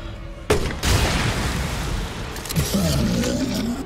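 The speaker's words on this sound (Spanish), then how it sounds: "solo un disparo lanzagranadas" A grenade launcher fires in Resident Evil Village, a sudden heavy boom bursting in near the start and rumbling on, followed by a few more muffled thumps in a noisy game soundscape.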